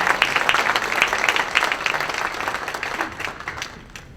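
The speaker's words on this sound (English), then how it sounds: "let's have a warm round of applause for Miss Emily" Warm applause from a dinner audience as a speaker is called to the stage, steady clapping from many hands that builds briefly and then tapers off toward the end.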